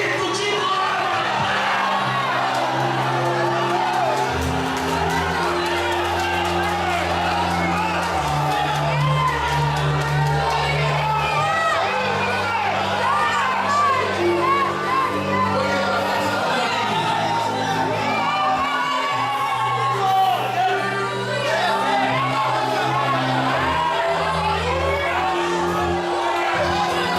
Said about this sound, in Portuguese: Quem acredita nisso, dá um grito de glória.